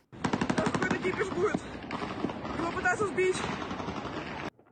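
Rapid bursts of automatic gunfire rattle continuously with dense overlapping shots at sea, aimed at naval drone boats near the oil port of Tuapse, loud and sustained, while voices talk underneath.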